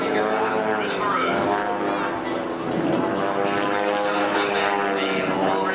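Propeller aircraft engines drone steadily at an airshow, a loud sustained hum with shifting pitch as the plane passes, under an announcer's commentary.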